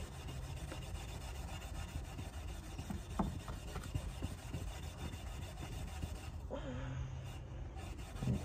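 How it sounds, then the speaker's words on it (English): Steel wool scrubbing varnish off a wooden hammer handle, a steady close abrasive rubbing that runs almost unbroken, with a few sharper scratchy strokes and a brief pause near the end. "I like steel wool because it's just gonna finely powder that top layer"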